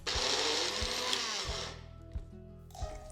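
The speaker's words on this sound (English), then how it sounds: "take some dates and raisins, add a little ghee and grind them into a thick paste" An electric grinder blending dates, raisins and ghee into a thick paste, whirring loud and close in a continuous burst that cuts off, followed by faint clunks and a short restart.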